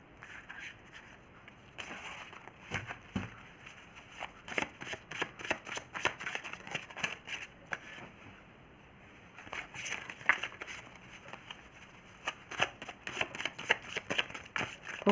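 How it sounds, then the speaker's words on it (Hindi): A deck of cards being shuffled by hand for an astrology reading, with repeated bursts of riffling and flicking throughout and short pauses between rounds. "Okay, one last shuffle, then are you done?"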